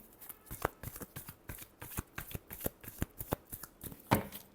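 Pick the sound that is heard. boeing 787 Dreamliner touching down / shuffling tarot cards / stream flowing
shuffling tarot cards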